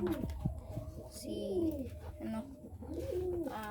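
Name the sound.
pigeons cooing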